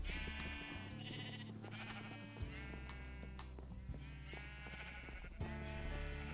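Several Minecraft sheep bleat in quick succession, overlapping nasal cries repeating across a few seconds, faint and low in level with a steady background beneath.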